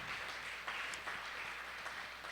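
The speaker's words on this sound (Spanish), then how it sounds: "¿Usted puede darle un fuerte aplauso al Señor?" Church congregation applauding the Lord, a steady wash of many hands clapping at moderate distance with a few sharper claps standing out, continuous for the whole stretch.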